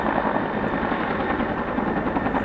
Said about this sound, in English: The guys in the helicopters are still doing a great job.